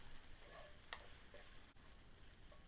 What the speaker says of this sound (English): I'm going to throw these eggs in here.